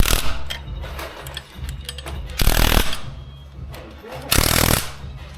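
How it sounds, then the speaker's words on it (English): Pneumatic rattle gun (impact wrench) working on engine bolts during a Nissan ZD30 rebuild, giving two loud bursts of rapid hammering over a steady low machine hum in a workshop, with voices talking between them. "Yeah, rattle guns good for everything."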